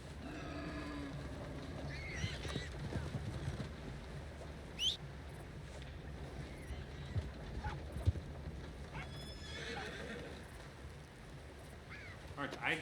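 Horse hooves clopping with an occasional whinny in the open world of Red Dead Redemption 2, a steady, moderately loud gait over a rough ambient bed with brief sharper accents.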